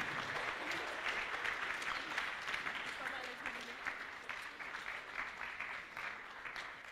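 A crowd at a cosplay contest at the Swiss Fantasy Show claps steadily with some scattered cheers, and a voice speaks over the applause.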